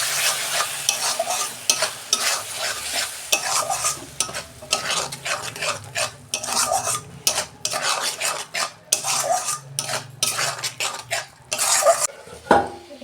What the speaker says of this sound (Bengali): 2 মিনিট আমি মশলাটাকে কষে নেব